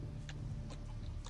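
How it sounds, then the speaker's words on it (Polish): A chicken clucks in the fantasy video game Risen, giving three or four short, faint clucks at irregular intervals over a steady low background hum. "A, zgadłem, że to kurczak."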